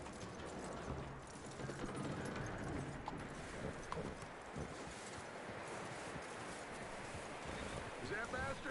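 Horse hooves clip-clop steadily in Red Dead Redemption 2, a continuous close trotting rhythm over a windy outdoor ambience, with a voice talking over it at times.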